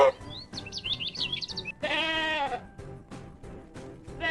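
A farm goat bleats in a long wavering cry, preceded by chirpy bird calls and followed by several short clicks and knocks, fairly close and moderately loud.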